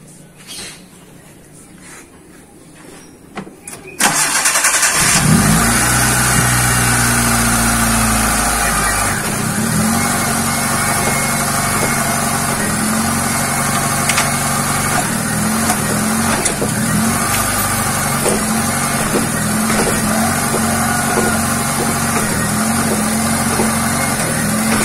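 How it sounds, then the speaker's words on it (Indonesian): A car with a shaking, vibrating engine starts after a few seconds of quiet handling noise, then settles into a loud, close, steady idle with a low rumble that persists to the end. "Kita akan lihat goyangan mesinnya kayak apa ya."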